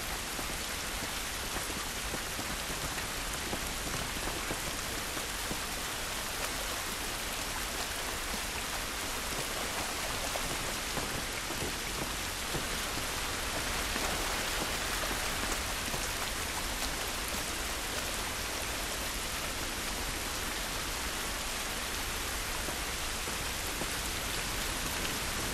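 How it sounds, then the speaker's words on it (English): Steady, dense rain in the video game The Last of Us Remastered pours across the Quarantine Zone outdoors, a constant close hiss of drops on surfaces with no talking over it. "This rain ain't gonna do us any good."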